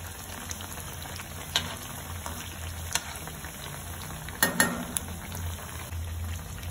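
Cheese bread rolls frying golden in hot oil, a steady soft sizzle close by with a few clinks as the rolls are turned, no voices.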